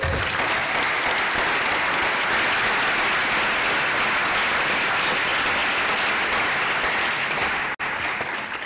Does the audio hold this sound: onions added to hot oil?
no